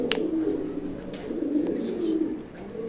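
Pigeons coo steadily nearby, a continuous low rolling burble that pulses in waves for a few seconds, with faint chirps at the edges and no voices.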